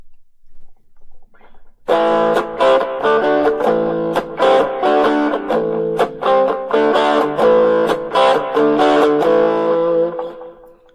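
Distorted electric guitar chords through a 1-watt Marshall MS-4 mini amp, strummed in a gritty, buzzy rhythm, loud and close, after a faint quiet lead-in.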